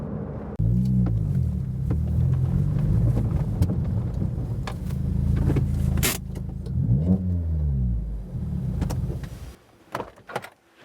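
A 2013 Suzuki Swift Sport hatchback driving, its engine rumbling and revving up through gears in loud, close surges, then dropping away near the end.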